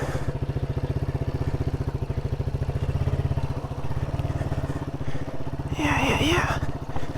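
Motorcycle pulling away on dirt at an old ghost town, a close, steady thumping engine putter with a throttle rise near the end, alongside a few faint rustles and clatters.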